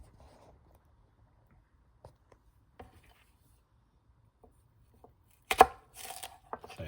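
A knife slicing okra on a cutting board in a quiet kitchen, with a few faint, sparse cuts followed by a louder burst of close chopping near the end.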